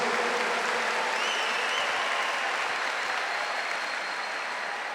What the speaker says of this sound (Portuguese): Vamos nos aplaudir uns aos outros.